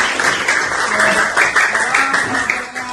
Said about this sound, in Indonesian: kasih tepuk tangan buat kelompok Fitriah